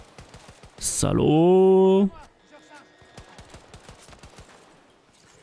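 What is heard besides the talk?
gunfire in the video game Battlefield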